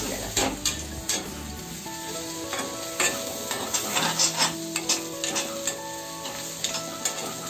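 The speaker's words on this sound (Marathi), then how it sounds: "त्यात सगळं कांदा उडून घेतला." Chopped onions sizzle steadily in a hot pan with spices for a Maharashtrian onion bhaji, while a spoon stirs and scrapes in repeated close strokes.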